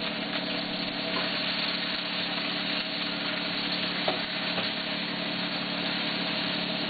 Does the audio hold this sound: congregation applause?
no